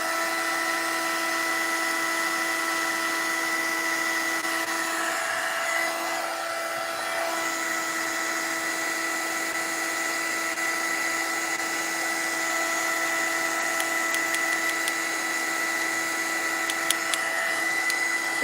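A heat tool or small blower drying watercolor paint on a mixed-media craft Christmas tree, holding a loud, steady whirring drone throughout with a few brief clicks near the end and no talk.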